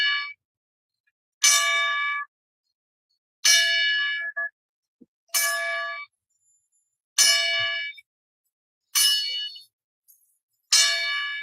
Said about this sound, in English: I like to have the bell ring 10